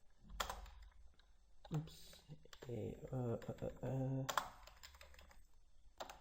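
Typing on a computer keyboard while filling in a signup form, short bursts of close key clicks between stretches of talk.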